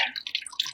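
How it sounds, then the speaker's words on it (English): Sanitized water trickles and drips from the prime plug port of a soft serve machine, a faint, close, irregular series of small splashes and gurgles. "the pump run until you see sanitized water coming out of the bottom of the port"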